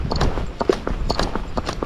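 A horse's hooves strike a road at a walk in an even four-beat footfall, close and distinct, with about a dozen crisp clip-clops and no talking.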